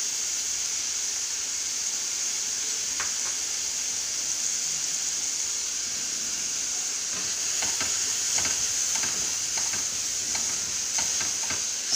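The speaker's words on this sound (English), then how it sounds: "Saute well." Beans sauté in a pan with a little salt, giving a steady hissing sizzle throughout, with a cluster of light scraping stir clicks in the second half.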